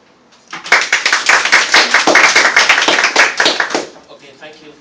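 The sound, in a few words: audience applause for a debate speaker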